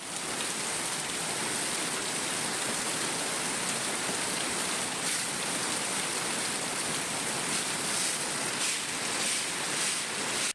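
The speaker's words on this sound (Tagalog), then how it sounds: "Sa magdamag na walang tigil ang ulan, nagsimula na ngang bumaha sa mga mabababang lugar." Steady, dense rain hissing without pause, a heavy downpour drumming on surfaces close by, with no voices.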